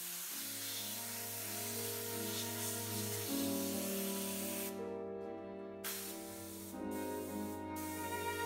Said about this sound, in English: Air pressure is used to force the rubber into all of the crevices and undercuts of the hair and face.